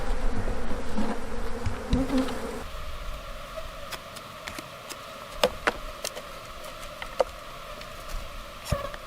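Honey bees buzz around a hive coming out of winter, a steady close drone with individual bees whizzing past, plus a few sharp clicks and taps from hive frames being handled.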